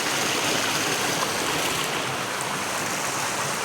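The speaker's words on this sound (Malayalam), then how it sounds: "ഇപ്പോഴും ഞങ്ങൾ രസകരമായി ഒഴുകുന്ന ഈ വെള്ളം എൻ്റെ ശ്രദ്ധയിൽപ്പെട്ടു" A cold stream flows beside a hill with rubber plantations at Matharikund near Karuvarakundu, giving a steady, even rush of water that stays constant and fairly close, with no voices.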